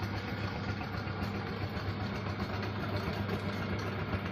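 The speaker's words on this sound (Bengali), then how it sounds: "মোটরের চাকা রয়েছে" Steady, even hum of an electric motor-driven potter's wheel at a clay pot workshop, running continuously and fairly loud without change, with no voices over it.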